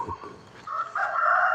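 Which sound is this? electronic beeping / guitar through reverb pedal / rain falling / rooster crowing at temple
rooster crowing at temple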